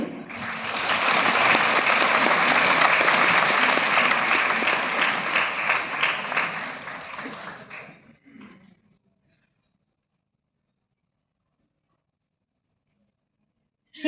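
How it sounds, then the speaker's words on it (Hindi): An audience at a national award ceremony in Vigyan Bhawan, New Delhi, claps loudly and steadily for about eight seconds, then the applause fades into silence. "जोरदार तालियों से उनका स्वागत करें"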